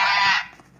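A toy rooster crow from a children's cloth animal sound book, one bright electronic call lasting under a second, loud and close, with no talk over it.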